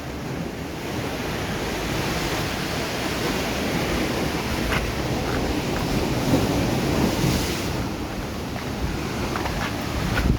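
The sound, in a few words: ocean waves churning below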